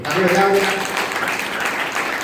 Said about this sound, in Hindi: अपने माता पिता के सम्मान में ताली बजाइए